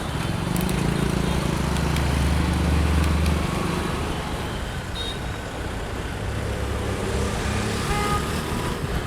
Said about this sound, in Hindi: इस साइकिलिंग लेन में सारे स्कूटर वाले आ गए।